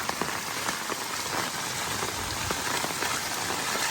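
Steady, dense rushing of floodwater in Nallur, a continuous broadband wash with scattered splashy ticks, close and fairly loud throughout.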